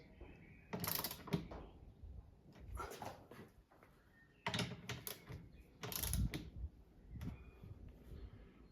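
Ratcheting wrench work on sway bar top bolts of a Porsche 911 (996) under restoration, torqued to 46 Nm: several bursts of clicking and metallic mechanism noise in clusters, close and moderately loud, with quiet pauses between.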